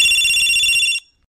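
A phone rings loudly and close up, a steady electronic tone lasting about a second before cutting off abruptly into silence.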